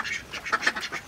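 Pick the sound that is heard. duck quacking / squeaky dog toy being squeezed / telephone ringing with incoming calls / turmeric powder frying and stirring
duck quacking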